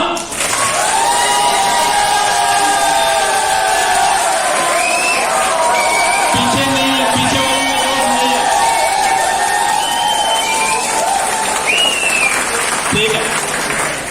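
A team audience at a training session in a hotel in Nalagarh claps loudly and steadily for about fourteen seconds, with whoops and cheers rising above the dense applause and a few voices calling out.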